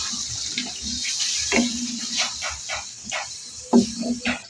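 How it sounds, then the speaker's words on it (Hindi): A bowl of water is poured into a pot of cooking aloo matar, giving a splashing, gurgling pour with a few bursts of sound. A voice murmurs briefly in the background. "इसमें हम ये 1 कटोरी पानी की शामिल करेंगे।"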